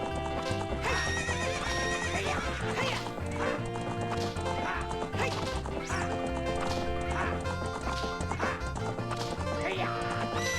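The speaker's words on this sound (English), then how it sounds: "What's up with that horse? Is that Epona?" Epona, the horse in The Legend of Zelda: Ocarina of Time, gallops with steady clip-clop hoofbeats and neighs repeatedly, loud and close over a busy layer of game music.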